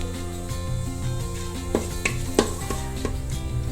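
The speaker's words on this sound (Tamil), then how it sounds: "எண்ணெயும் நெய்யும் விட்டு காஞ்செடுத்து இப்போ வந்து தாளிக்கிறத தாளிச்சிடலாம்" Cinnamon, clove, fennel and bay leaf tempering in hot oil and ghee, a close steady sizzle broken by a few light stirring clicks and taps.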